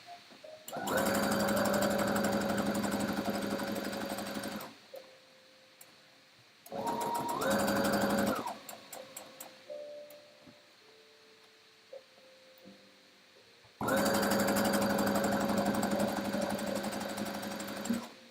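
Sewing machine stitching fabric in three long steady whirring runs with a rapid needle chatter, close and loud, separated by quieter gaps with small handling clicks and no talk.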